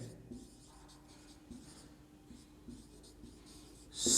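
Marker or chalk writing on a board during a Class 9 maths lesson on triangles, faint scratchy strokes in short bursts, quiet and close, with no talk over it.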